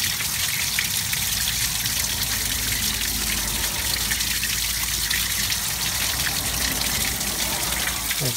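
Water gushes steadily from a port on a rusty 1974 Ford Fairlane engine as the water jacket is flushed of crud, a loud, continuous rushing spray close by with no pause.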